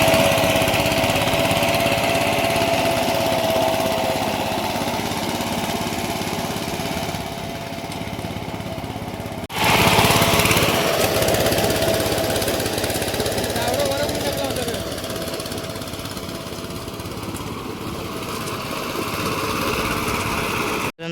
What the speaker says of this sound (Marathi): तिकडे ट्रॅक्टरची नांगरणी चालू आहे